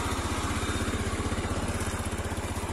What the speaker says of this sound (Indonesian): jadi suara mesin itu agak halus gitu